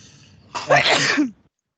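A single loud, close sneeze bursts out after a quiet moment, followed by silence.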